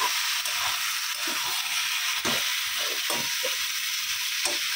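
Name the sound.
ridge gourd with poppy seeds frying with onion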